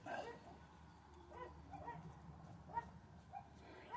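Several dogs bark at a visitor somewhere off at a distance, faint and intermittent over low background noise.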